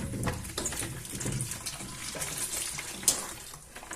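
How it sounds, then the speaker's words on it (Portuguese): Water leaked from a washing machine is poured into a bucket, a close, steady gushing splash with some uneven sloshing and no speech over it. "Vamos ver se a gente joga essa água num balde aqui"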